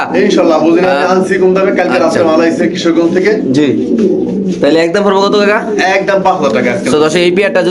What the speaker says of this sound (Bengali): দেখে দেখেন মাশাআল্লাহ কত সুন্দর বড় সাইজের কবুতর